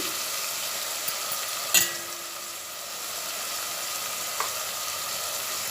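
Tomatoes fry with a pinch of asafoetida powder in a hot pan, giving an even, continuous sizzle broken by a couple of brief stirring clinks.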